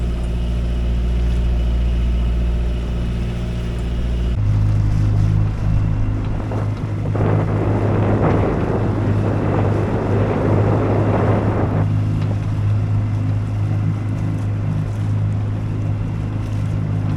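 A dinghy outboard hums continuously nearby as the small boat motors up to a dinghy dock in Two Harbors, with a stretch of louder splashing water and wind noise in the middle before the steady engine drone resumes.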